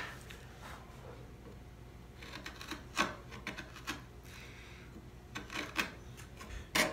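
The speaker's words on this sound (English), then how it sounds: "I sink the chisel in there, and as you see, I scrape it away." A steel chisel scraping and paring wood in the corners of a hand-cut dovetail socket on a sideboard drawer, with soft intermittent rasping strokes and a few sharper ticks, close and fairly quiet with no talking.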